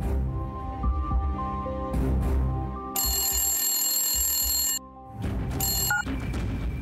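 A telephone rings during a call in a Telugu TV serial scene, with repeated electronic ring bursts cutting in and out over a low background hum. No one speaks.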